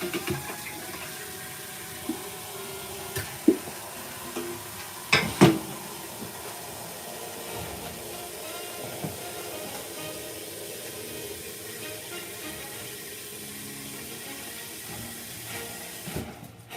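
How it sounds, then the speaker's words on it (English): Water runs steadily into a container for a sustained stretch, a continuous rushing fill with a few knocks and clunks early on, no talking. "You're going to fill this up with water."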